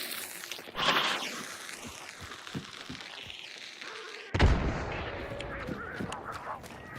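Gunfire in a zombie shooting video game: sharp shots with thumps, one loud burst partway through, over a busy game soundscape.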